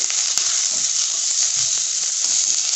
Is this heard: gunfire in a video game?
no